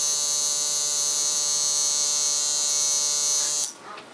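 Electric tattoo machine running fast, a loud, steady high-pitched buzz held close for several seconds before it cuts off abruptly, leaving faint handling noise.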